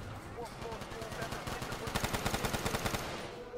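Rapid bursts from a nail gun in Call of Duty, a fast rhythmic volley of sharp, evenly spaced shots that grows denser and louder toward the end, fairly close in the mix.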